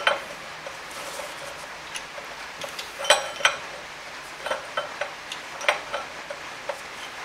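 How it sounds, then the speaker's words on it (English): Small metallic ticks and clinks as a driveshaft flange cap on an MK3 VR6 is threaded back into its hole, a series of light, irregular taps close by with no talking. "I'm going to thread that back in the hole."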